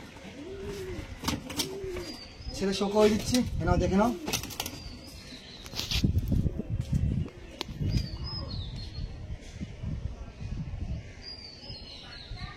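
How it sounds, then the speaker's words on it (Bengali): Old-line tippler pigeons coo in low, rolling bursts through the first few seconds, with wingbeats and chirps mixed in, under someone talking nearby. "ওল্ড লাইনের পায়রা"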